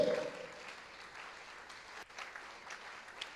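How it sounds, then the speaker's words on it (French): A church congregation applauds in a continuous, fairly distant wash of clapping that holds steady throughout, with a few louder individual claps near the end. "Clap your hand, they are coming."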